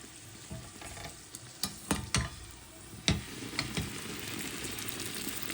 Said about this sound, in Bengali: আমার পুরি ভাজা শেষ